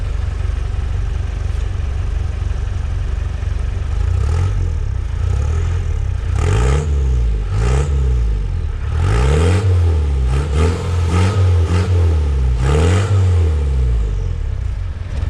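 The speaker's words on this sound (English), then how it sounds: "we'll rev this one up and see what this one sounds like" Land Rover 200tdi diesel engine fitted with a hybrid turbo, revved repeatedly in a series of rising and falling bursts over a steady idle, close and loud, with turbo whistle in the bursts.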